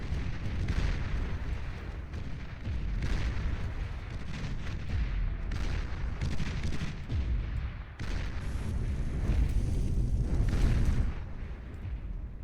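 Tzar heavy tank firing and shells exploding in the Beyond All Reason real-time strategy game, a dense continuous barrage of booms and blasts with overlapping impacts, loud and sustained.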